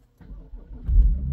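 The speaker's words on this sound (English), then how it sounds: "let's try to start now the car" An old car's engine cranks and catches just after its battery has been recharged following a cold spell, a low rumble building and swelling into a steady idle close by.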